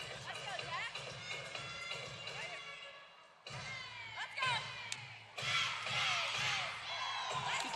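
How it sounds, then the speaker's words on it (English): A gymnastics team cheers and shouts from the sidelines during a college floor routine, a lively crowd of voices rising and falling with sharp whoops, nearby and loud, mixed with thuds of landings. "You can hear the team cheering for her"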